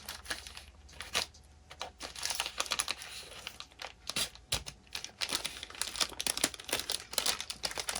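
Scissors cut open a plastic bag of screws during a budget gaming PC build, making close, irregular crinkling and snipping with rustling plastic throughout.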